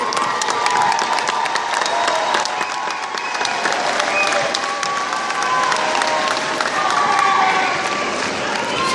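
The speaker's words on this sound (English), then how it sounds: "Clap it up for them." Large commencement crowd claps and cheers for standing graduates at Cal State East Bay, a dense, steady wall of applause with shouts and whoops running the whole time.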